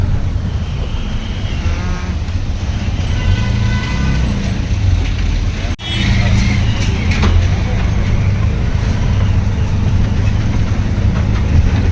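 Engine of a moving auto rickshaw, a steady loud drone and rattle running throughout with a brief dip midway, while people talk over it.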